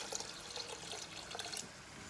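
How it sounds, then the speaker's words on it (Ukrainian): Faint splashing and trickling water poured into a pot of mushroom soup, a short uneven pour with small bursts, heard alone without talk. "Додамо ще води."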